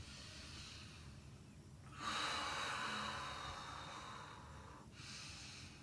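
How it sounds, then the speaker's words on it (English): Long, deep breaths during a Kundalini yoga session: a quiet steady airflow that swells into a louder, breathy exhalation midway and then eases off, close and without speech. "Long, deep breathing."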